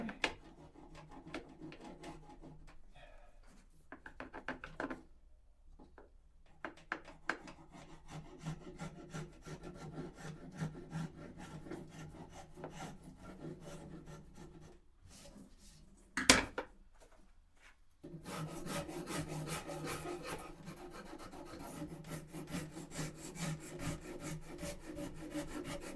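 Hand carving of an acoustic guitar neck blank produces rhythmic rasping and rubbing strokes on wood, close and fairly quiet, with short pauses between runs and one sharp knock midway.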